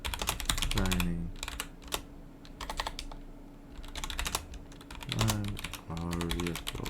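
Computer keyboard typing while setting up a Java program, a steady run of close, crisp keystrokes in bursts with brief pauses, no talking.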